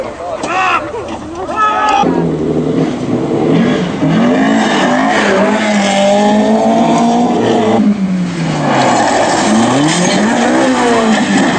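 A rally car crashes and rolls over during a Finnish rally stage, heard as a loud roaring engine, skids and tire noise with repeated revving over about eleven seconds, while a commentator talks over it.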